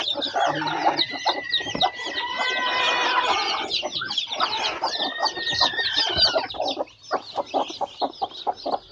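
A brooding hen on a clutch of eggs clucks loudly and almost continuously up close, mixed with longer drawn-out calls, before thinning into separate clucks near the end.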